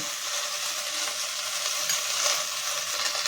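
Cumin powder, turmeric and Kashmiri chili powder frying in oil in a pan for vegetarian Bengali ghugni, giving a steady close sizzle with soft stirring scrapes, no voices.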